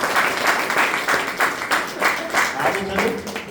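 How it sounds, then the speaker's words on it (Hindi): Audience applause at a network marketing seminar in India, a steady wash of many hands clapping throughout, with a speaking voice faintly present underneath. "तो एक बार ताली बजा सकते हैं।"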